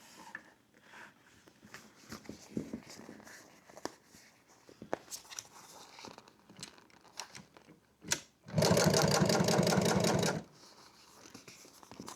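A sewing machine doing a top stitch on fabric runs in a short, steady, rapid burst of about two seconds near the end, after quiet fabric handling and scattered taps.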